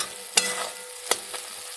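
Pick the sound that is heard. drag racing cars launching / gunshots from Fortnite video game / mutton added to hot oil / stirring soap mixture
mutton added to hot oil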